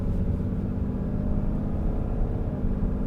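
Low, steady engine rumble from a 2020 Ram 2500 heavy-duty pickup with the 6.7-liter diesel, heard from inside the cab while cruising slowly through a neighborhood; a muted, even drone without speech.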